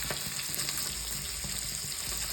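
Small sardines fry on a stove beside a simmering mango sardine curry, a steady close hiss of oil with faint regular ticking and a low hum underneath, and no talking.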